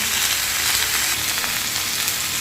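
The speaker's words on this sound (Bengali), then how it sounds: "এটা এখন ভালো করে ভাজবো সবজিটাকে ভালো করে ভেজে নেব" Vegetables including tomato frying in a pan, a dense, steady close-up sizzle with faint crackles throughout and no voices.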